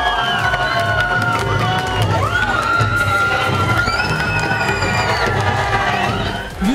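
Hundreds of fans cheer and shout loudly at a crowded book signing for Survivor contestant Semih Öztürk, a dense continuous roar of voices with high-pitched screams and whoops rising throughout.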